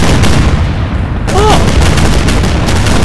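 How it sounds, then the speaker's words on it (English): Heavy gunfire from the sky in the Arma 3 military game, a loud dense barrage of overlapping bursts and booms that fills the moment with only a brief dip before resuming. "There's like horrendously heavy gunfire from the sky."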